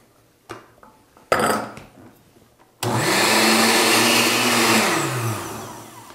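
A stick blender whirs loudly for a few seconds after some brief knocks and clatter, its motor pitch dipping slightly before it winds down, while making papadum batter.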